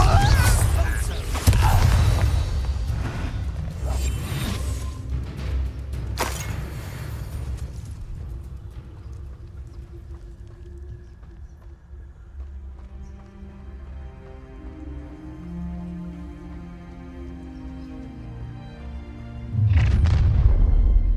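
Confringo blasting spell in the Hogwarts Legacy game: deep booming impacts and crackling bursts open the passage, then fade into a rumbling, tonal ambient bed, and another loud blast lands near the end.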